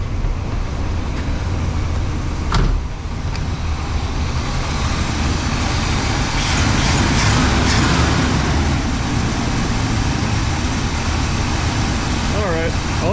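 A 1966 Pontiac Catalina convertible engine with an unadjusted carburetor and timing that seems a bit advanced runs continuously in a dense, steady idle, with voices occasionally heard over it.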